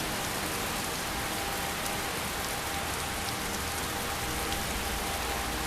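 Steady rain falls in Skyrim as a dense, even hiss of drops that continues unbroken for several seconds, with no voices.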